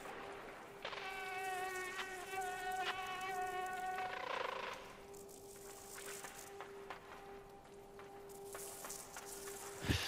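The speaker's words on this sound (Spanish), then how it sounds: "Ay, el bicho se asusta de mí." A buzzing insect creature in the video game Limbo drones with a thin, steady whine that rises and falls as it moves, close and clear, with no talk.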